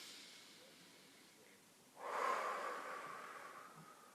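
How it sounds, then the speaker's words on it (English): A single slow, breathy exhale during a breathing exercise, soft and close, rising then fading, after a quiet stretch with no voice. "Exhale, inhale."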